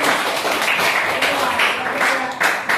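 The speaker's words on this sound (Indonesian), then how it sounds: "Tepuk tangan untuk Shani" Schoolchildren in a classroom applaud a classmate who answered a question, giving a steady wash of clapping with voices mixed in throughout.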